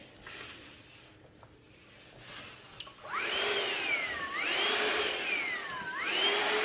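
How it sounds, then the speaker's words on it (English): A Shark VacMop vacuum mop starts up after a quiet moment, its motor whine rising and falling in sweeping pitch glides as it pushes across the floor, loud and close, no voices. "all the dirt and gunk gets sucked right into the pad, and you never have to touch it"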